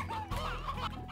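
Cartoonish hens in the Slime Rancher ranching game give a brief, close burst of clucking, a couple of quick fowl calls with a faint laugh-like edge, alone without talk.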